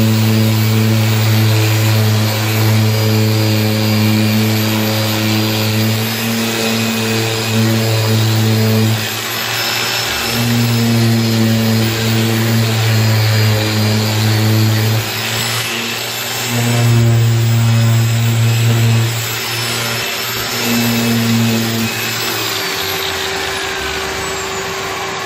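Power sander working over a scratched car bumper being prepped for filler and primer before painting, a steady loud mechanical drone with harmonic hum that pauses briefly and restarts several times, close and alone.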